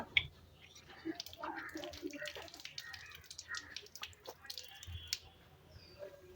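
Hands washed under running water at a village mosque ablution area, with soft splashing, dripping and squishing close by, faint and irregular while a voice talks quietly.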